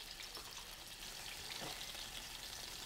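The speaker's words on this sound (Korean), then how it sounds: "기름에 다진 마늘을 튀겨서" Minced garlic fries in oil with a steady, fine crackling sizzle. The sound is quiet and even, with a few slightly louder pops, and no voices come through.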